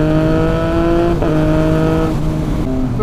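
A 2020 Triumph Speed Triple RS motorcycle engine runs loud and close with a steady, smooth low-rev drone, shifting pitch in a couple of brief throttle changes, with no talk.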